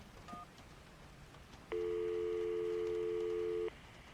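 A telephone tone in the Syberia video game: a short beep, then a steady two-second tone, clean and moderately loud, with no talking over it.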